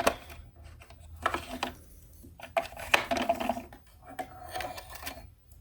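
A sewing machine stitching red fabric appliqué onto a Christmas tree quilt, with close, uneven bursts of mechanical whirring and clicking separated by short quiet pauses.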